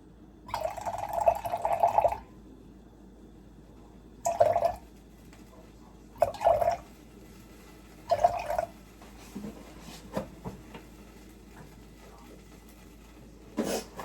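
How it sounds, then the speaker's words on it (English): Water pours in several short bursts separated by pauses, close and fairly quiet, while making homemade shampoo. "So now I like to add back water to this."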